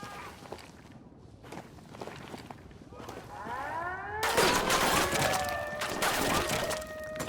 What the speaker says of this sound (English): I'm shooting these fuckers.